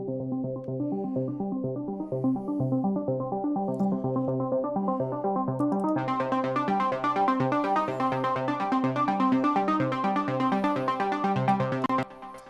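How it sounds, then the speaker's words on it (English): Serum synth arpeggio in a progressive house track, run through distortion, chorus, delay, compression and auto filter: a steady, fast repeating melodic pattern, loud and alone, brightening midway as higher harmonics open up, then cutting off near the end. "So that's another ARP sound that we're running in there."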